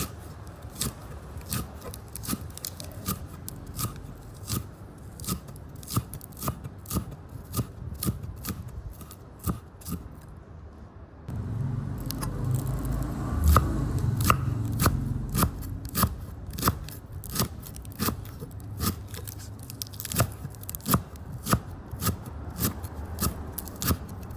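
A knife chops fresh parsley on a cutting board with a quick, steady run of crisp taps close by. The taps pause briefly partway through, then carry on at the same pace.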